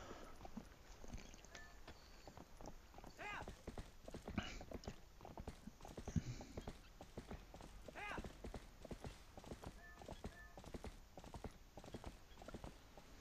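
Horse hooves clip-clopping in Zelda: Twilight Princess HD, a rapid rhythmic galloping beat that continues throughout, with occasional neighs and faint game sounds layered underneath.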